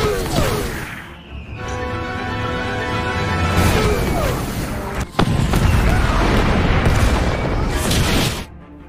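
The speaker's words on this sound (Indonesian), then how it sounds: "senjata Katyusha langsung diluncurkan menuju markas pasukan Nazi Jerman" Katyusha rocket launchers firing and explosions in a WWII war film battle scene against German Nazi positions, loud continuous whooshing roars and rumbling blasts with a sharp bang midway, layered with film soundtrack.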